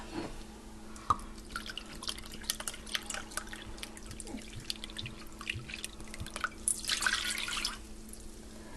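Red wine vinegar poured from a bottle into a measuring cup in a home kitchen, faint trickling and dripping with scattered small clicks of glass, quiet and close, swelling into a brief fuller pour near the end.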